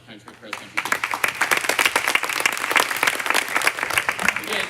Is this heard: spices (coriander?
no